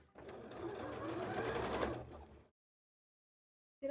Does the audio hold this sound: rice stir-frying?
no